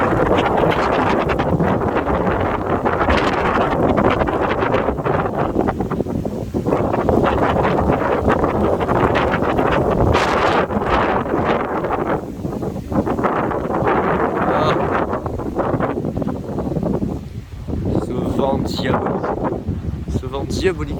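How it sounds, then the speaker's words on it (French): Strong, hot foehn wind storm roaring continuously in broadband gusts, loud and close on the microphone with buffeting throughout and brief dips in force. "Ce vent diabolique les gens."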